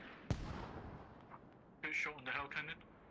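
A single sharp, heavy boom from a hell cannon in a Squad esports match, with a decaying tail, followed by faint rumble and a voice speaking over it.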